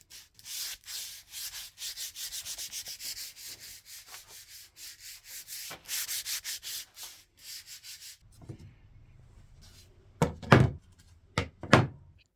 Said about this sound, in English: just to sand those down a bit, tidy them up just a tiny bit